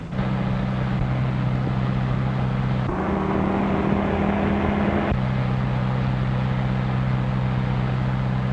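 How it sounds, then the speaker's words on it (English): A 1930s car engine drones steadily with a low, constant hum, its pitch shifting slightly as the vehicle approaches, with no voices over it. "Fred's car coming back."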